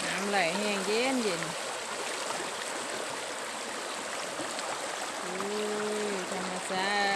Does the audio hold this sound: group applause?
no